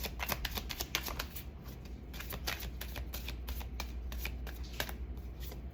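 A deck of playing cards is shuffled and handled during a card game, producing a continuous run of rapid, close riffling flicks and snaps with no voices over it.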